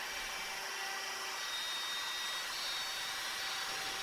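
A router fitted with a new bit cuts mortises in wood, guided along a clamped jig, giving a loud, continuous high-pitched whine that stays steady for several seconds with no pauses.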